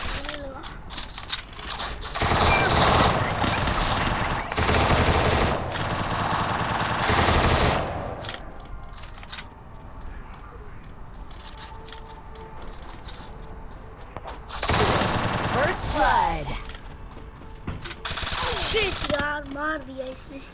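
Guns fire in a shooter video game in long, loud bursts of rapid automatic fire. Quieter stretches with scattered mechanical clicks and clatter fall between the bursts.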